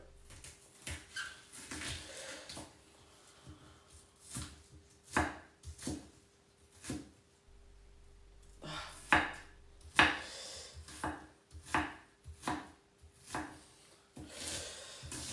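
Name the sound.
knife chopping food on a cutting board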